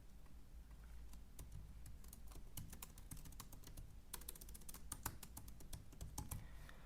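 Quiet, close computer keyboard typing as a title is entered, a steady run of light key clicks with short pauses, faint room hum underneath and no voices.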